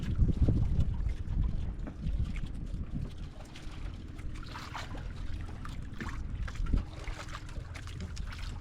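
Strong wind buffets a small fishing boat at sea, with heavy gusts thumping at the microphone and water sloshing and trickling against the hull.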